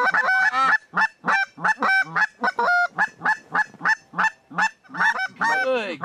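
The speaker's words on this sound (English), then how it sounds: "there's a bunch of fucking geese on that pond" A flock of geese honks on a pond, a dense run of repeated loud nasal calls overlapping in quick succession, with faint voices in the background.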